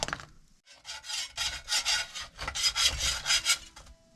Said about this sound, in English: Good news is it is scraping off the pan really easy